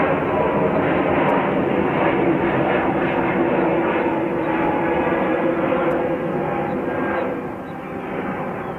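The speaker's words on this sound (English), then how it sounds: "these passengers aboard aircraft type Airbus A321-271NX, 1 year old in age" A one-year-old Airbus A321-271NX jet at JFK airport gives off a loud, steady broadband engine roar that holds throughout and eases slightly near the end.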